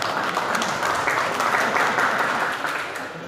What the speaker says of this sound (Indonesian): Tepuk tangan buat Banyumas kita.